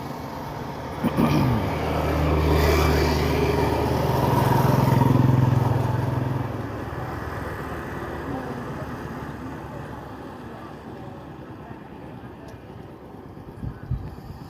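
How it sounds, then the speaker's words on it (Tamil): A car drives while the driver shifts through second, third and fourth gears, slowing for a speed breaker; the engine note swells and rises early on, then settles into a steadier, quieter cruising hum with some wind noise. "ஃபோர்த்து கீரில் இப்போ வண்டி போயிட்டு இருக்குது"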